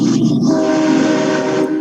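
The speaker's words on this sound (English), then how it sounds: "Every time he's in a video, we're going to have to play a train horn." A train horn blares loud and steady for a couple of seconds, sustained and droning with no talk over it, played as a sound effect during a livestream.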